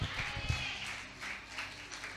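Audience clapping at a Tamil Christian summer camp service, a scattered, moderate burst of applause that fills the hall for about two seconds, with faint voices underneath.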